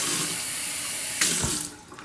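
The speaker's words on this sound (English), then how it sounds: "Run your water, fill it up, drain all that garbage out." Kitchen tap runs water steadily into a can of food to rinse it, a loud continuous close-up splash that shifts in tone as the can fills and drains.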